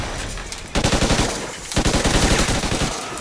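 Submachine gun fire in Call of Duty Ghosts: a brief burst, a short pause, then a longer sustained burst of rapid, punchy shots, loud and close.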